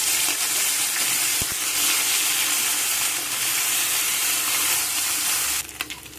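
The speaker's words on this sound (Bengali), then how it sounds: "কড়া ভালো করে গরম হয়ে গেছে। এখন মাছগুলোকে ভেজে নেব।" Small mola fish frying in hot mustard oil in a wok, a loud, continuous close-up sizzle with brief pops, easing slightly near the end.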